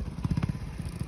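Hero Splendor BS6 motorcycle with a seized engine, sputtering and chugging in a rough, uneven rhythm close by.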